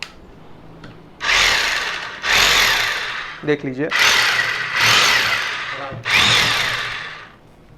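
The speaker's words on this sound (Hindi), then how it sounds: "मैं पूरा डायरेक्ट हैमर के ऊपर कर देता हूँ।" A rotary hammer drill switched fully to hammer mode runs in several loud, rattling bursts of a few seconds each, close up, with brief pauses between them and someone talking over it at one point.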